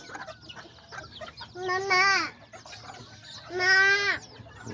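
Small chickens and roosters, including Azteca birds, cluck and call in two loud harmonic bursts over a background of softer clucking and faint chatter nearby.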